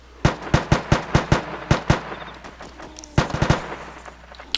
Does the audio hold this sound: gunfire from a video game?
yes